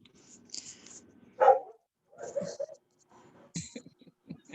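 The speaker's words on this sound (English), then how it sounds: "Your dog." A dog barks a few times in the background of an online meeting, short sharp bursts spaced apart, moderately loud, with some speech-like sound mixed in.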